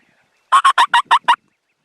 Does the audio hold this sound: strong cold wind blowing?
no